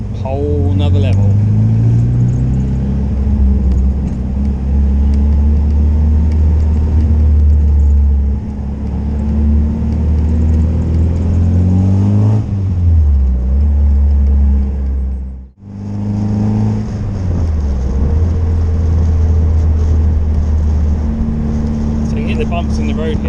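An MG Midget drives along in third gear, its engine a steady loud drone with rising and falling revs and one brief gap in the sound, all close and continuous.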